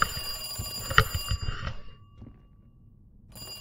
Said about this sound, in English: This is just like an old school telephone over here, and it starts ringing.